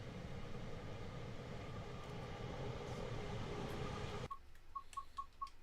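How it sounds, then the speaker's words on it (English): A faster train rushes past in Train Sim World 5 on the Dutch Zwolle–Groningen route, a dense rolling roar that cuts off abruptly, leaving a quiet cab with a string of short regular beeps. "we're getting passed by another faster moving train."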